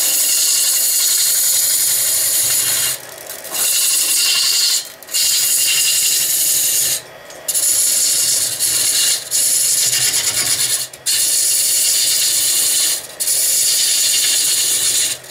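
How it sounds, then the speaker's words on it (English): A roughing gouge cuts a spinning wooden spindle on a lathe for a giant thread spool, making loud, rasping, hissing shaving passes broken by short gaps as the tool lifts away. "I can actually use a roughing gouge to do this, because essentially this is a spindle piece"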